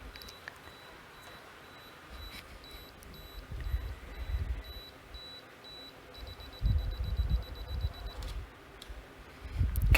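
Beeps from a DSLR camera, short tones repeating in spaced runs with a steadier stretch toward the end, heard over low handling rumble and bumps.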